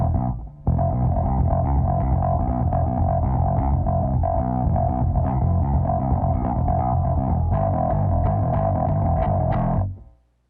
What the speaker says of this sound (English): This particular bass, which is a Warwick, it's my 4-string, it's one of my go-tos.